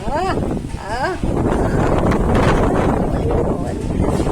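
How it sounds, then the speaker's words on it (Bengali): Strong wind roars steadily into the microphone in a constant, buffeting rush that stays loud throughout, with a few brief voices speaking near the start. "এতই হাওয়া দিচ্ছে"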